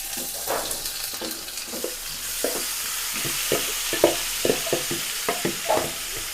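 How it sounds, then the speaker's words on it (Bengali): Chopped onions sizzling in hot oil while being stirred, with a steady fry hiss broken by repeated scraping and clacking strokes of a spoon against the pan, close up and with no talk. "পেঁয়াজ ভাজা হয়ে গেছে।"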